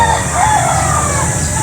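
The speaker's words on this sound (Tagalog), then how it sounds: "Ganda po ng manok." A rooster crows loudly and close at a pet market in Angeles, a drawn-out wavering call over a busy, noisy background.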